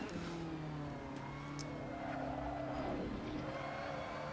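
Race car engine in Assetto Corsa, driven gently with a Thrustmaster T300 wheel: a steady, close, humming drone with a mild rise in revs partway through, heard alone.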